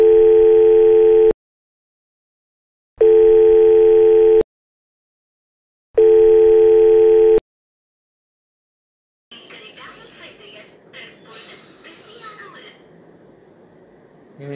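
Phone ringing tone on an outgoing call, three long steady tone bursts with even gaps of silence, loud and close, then cut off and followed by quieter muffled background noise.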